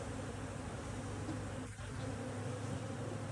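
Honey bees in an opened hive during a split with virgin queens, a dense continuous buzzing hum close by, steady throughout with a brief dip near the middle, no voices.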